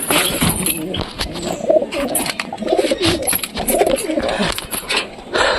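Pigeons cooing inside a coop, several soft, throaty, rolling calls overlapping close by, with light rustling and a few chirps between them.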